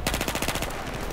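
Rapid automatic gunfire from the Battlefield 4 video game, loud and close, a steady burst of repeated shots that thins out toward the end.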